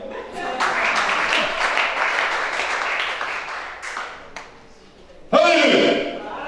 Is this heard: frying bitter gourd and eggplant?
no